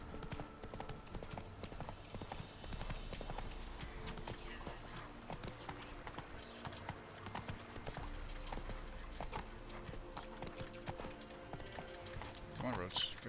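Video game horse Roach gallops in a quick, rhythmic clip-clop of hooves that continues steadily throughout, moderately close, with a voice talking faintly over the hoofbeats.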